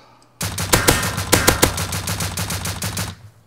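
An AK assault rifle in the game Rust fires a sustained automatic burst of rapid, evenly spaced shots lasting about three seconds, loud and close, after a brief quiet start.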